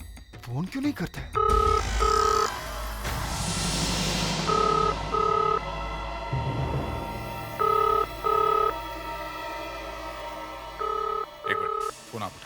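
A telephone rings in repeated double bursts of electronic trills, loud and close, with background music and activity between the rings in a TV crime drama scene.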